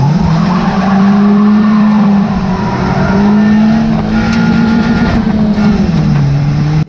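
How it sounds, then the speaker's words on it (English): A race car at Cowdenbeath Racewall revs steadily with a loud, sustained engine drone and tire squeal close by, the note rising slightly as it gets back into gear, with faint crowd or track noise underneath. "He gets the car back into gear and tries to finish the race."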